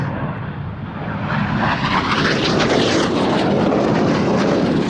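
Red Arrows jet aircraft flying at an air festival: a loud, continuous roaring rush of jet noise that builds slightly and holds steady throughout.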